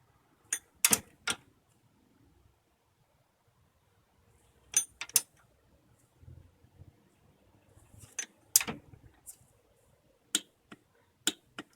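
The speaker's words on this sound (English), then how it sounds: "The 2 bolts we took out will be torqued at 33 foot-pounds." Sharp, sparse metallic clicks from a torque wrench tightening the power steering pump bolts on a 2008-2012 Honda Accord, heard in short clusters with quiet gaps between them.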